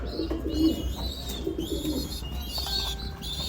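Pigeons cooing softly nearby, several low throaty coos over a busy background with faint chirps and a bit of wing flutter.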